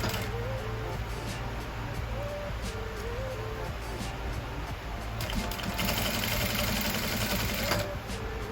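A sewing machine stitches aso-oke fabric for a gele with a loud, continuous close-up hum and rapid needle chatter from start to finish, and the tone shifts slightly as the speed changes.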